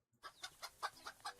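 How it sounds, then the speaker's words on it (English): Three plump hens in a netted, fenced-off enclosure cluck in a quick, even series of about six short calls, close and clear, with no talking. "Chickens!"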